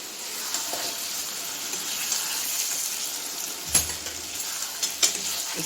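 Potato and pointed gourd cooking in oil with spices, a steady close sizzle broken by a few sharp scraping stirs of the spoon against the pan, with no talking.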